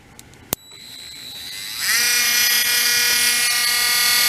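A buffing wheel motor fitted with a string mop spins up after a sharp click, its high whine climbing in pitch over a couple of seconds and then holding as a steady, loud, tonal hum.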